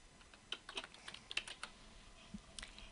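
Keys tapped on a computer keyboard while a project proposal form is filled in, a quick irregular run of close, crisp clicks with short pauses, nobody talking.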